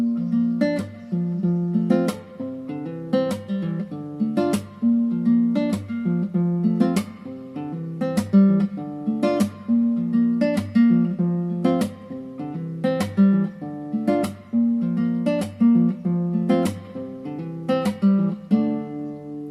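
An acoustic-style guitar plays a simplified accompaniment riff, with steady, repeating plucked chords keeping the original rhythm motif and chord progression, played alone and close.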